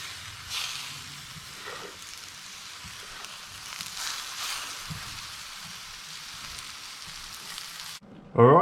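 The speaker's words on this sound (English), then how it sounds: "And it's into our fry pan. And not for very long, just till they start caramelizing a bit." Sliced bananas coated in honey fry in a pan, giving a soft, continuous sizzle with faint crackles throughout, followed by a sudden louder clatter at the very end.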